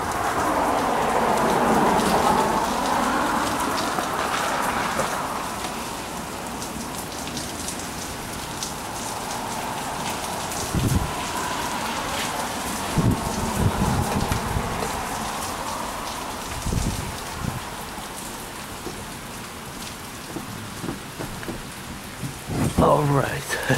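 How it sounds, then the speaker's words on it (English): Steady heavy rain pours down during a thunderstorm, a dense continuous wash of drops on surfaces with a few low rumbles and thumps rising through it; voices speak faintly under the downpour. "Stupid rain."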